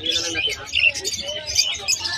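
Several parakeets, including lutinos, give bright, scattered chirps and tweets up close, with some voices mixed in.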